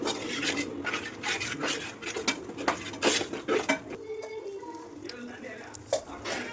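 A spatula scrapes repeatedly around a pan while onions, chilli, coriander and chicken masala are sautéed for a Kerala-style chicken curry, with quick rhythmic metal strokes that ease into quieter stirring.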